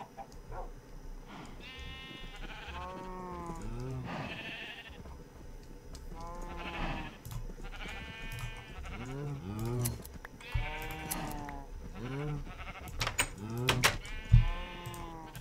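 Sheep in the Minecraft video game bleat repeatedly, a series of short, clear, tonal baas spaced a second or two apart, with a few clicks near the end and no talk over them.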